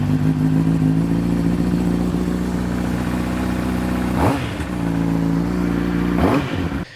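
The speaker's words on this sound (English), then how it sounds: "just to make sure you can hear the bike in the pack blast down the straights, we went with a Yoshimura RS5, which sounds amazing" A Honda CBR600 motorcycle fitted with a Yoshimura RS5 exhaust holds a loud, steady engine tone up close. Twice the sound dips sharply and climbs back as if through a gear change.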